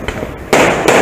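A fireworks display goes off near a bridge over the water, with a sharp, loud burst followed by a second blast within a second.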